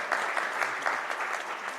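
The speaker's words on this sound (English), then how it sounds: "I would also like to ask you to actually appreciate our panelists here today with a hearty clap" Audience at a digital and technology week event clapping for the panelists, a brief, dense burst of steady applause without speech.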